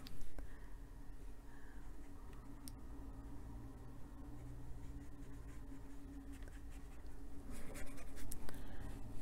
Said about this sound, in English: And it looks like I'm going to have to put more pencil down on the page here